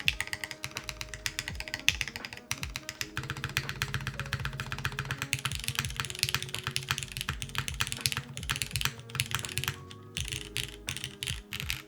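Typing on a Neo80 Cu mechanical keyboard, a dense, fast run of crisp clicky keystrokes with brief pauses, close and clear, with no talking.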